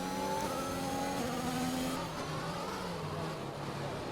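Race car engines in a sim racing game on the Baku circuit, a continuous loud engine drone with shifting pitch as cars run close together, with no speech.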